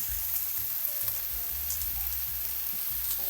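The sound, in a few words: tomato paste frying with onion and garlic in a pan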